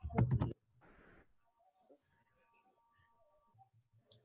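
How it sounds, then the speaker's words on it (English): Short burst of clattering keystrokes on a computer keyboard during an online training session, a quick cluster of loud taps at the start, then near silence with faint clicks and a distant low murmur of a voice. "So you'll see how it's typing over here."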